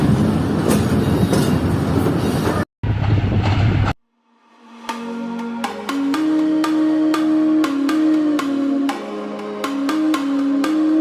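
The Fareed Express passenger train rolls along rails between Lahore and Karachi, starting with a loud, dense rumble and then shifting to sharp, rhythmic clicks over the rail joints with a ringing, tonal hum, heard close and without speech.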